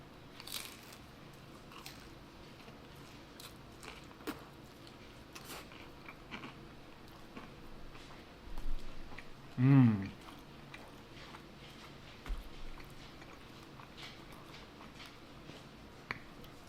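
Crisp bites and crunching chews on pizza crust from Bartoli's pizza, scattered close crackles and snaps across a quiet room with one louder burst of chewing midway.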